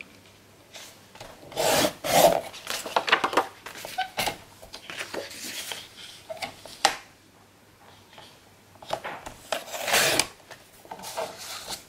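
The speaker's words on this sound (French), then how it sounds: "Celle-ci, on va la découper." Scissors cut through a paper scrapbook pocket in a series of close, rasping snips and scraping strokes, arriving in irregular bursts with short pauses between, with no speech.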